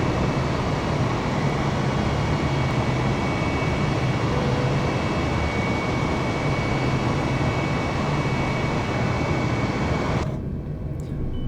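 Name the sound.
Airbus A320 departing and climbing, from video game Flight Simulator 2020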